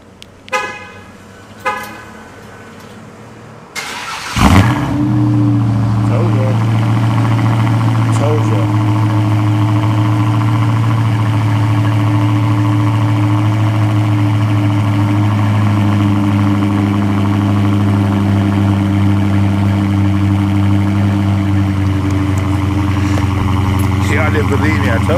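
A V6 Dodge Charger with a new aftermarket filter cranks and fires up after a few clunks, then settles into a steady, loud, close idle with a deep rumbling hum that holds unchanged.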